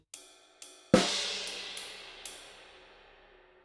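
On a drum kit, a few sharp snare hits in a shuffle feel lead into a loud crash cymbal whose bright wash rings and slowly fades, with further light snare strokes over the decay and no voices.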